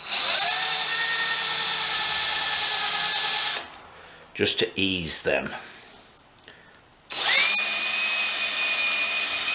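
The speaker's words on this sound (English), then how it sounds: "pop a drill in these" A power drill whirs steadily as it cleans threaded holes on a BSA 350 motorcycle. Two long, loud runs are separated by a pause where someone speaks briefly.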